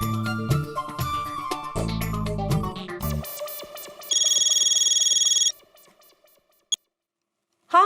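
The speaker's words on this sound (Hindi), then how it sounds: "अभी बबीता जी को फोन करके थैंक यू बोल देता हूँ।" A telephone rings during an outgoing call, with a loud, steady electronic ringing tone that lasts a few seconds and then cuts off. It follows a stretch of mixed background music and is followed by near silence with brief clicks.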